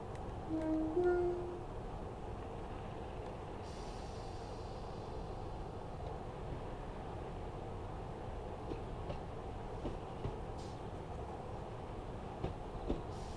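A Class 153 diesel train rolling into Cardiff in Train Sim World, a steady low rumble of wheels and engine with faint rhythmic clicks, fairly quiet and even throughout.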